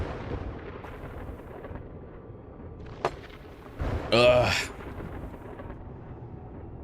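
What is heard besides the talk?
storm thunder in video game 7 Days to Die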